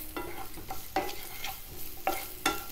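Onions sautéing in a pan with a pinch of salt, a soft constant sizzle punctuated by four or five sharp scraping stirs of a spoon across the pan.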